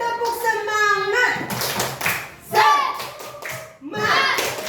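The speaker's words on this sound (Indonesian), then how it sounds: "Mana tepuk tangannya yang semangat? Tepuk semangat dulu." Children in a classroom lesson clapping along in patterned group claps, interrupted by bursts of kids' voices and an adult talking, lively and close with brief pauses between rounds.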